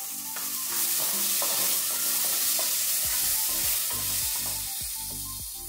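Chopped small onion frying in a pan, a dense bright sizzle with spatula scrapes and pan knocks, close and steady, with no one speaking.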